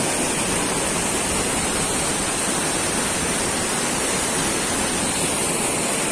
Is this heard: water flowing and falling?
yes